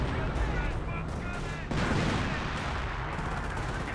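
Battle sounds from Company of Heroes, with German Grenadier squads and another squad exchanging rifle and machine-gun fire in dense, continuous bursts, loud and busy throughout, with a voice briefly audible underneath.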